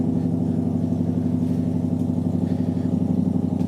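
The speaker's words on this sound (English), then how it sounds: "Truck with an exhaust on that thing?" A truck engine with a loud exhaust holds a steady, droning low rumble, close and continuous, with no talk over it.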